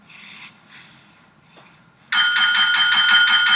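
A small handheld bell rings insistently in rapid repeated dings, loud and close, after a stretch of quiet breathing and snorting.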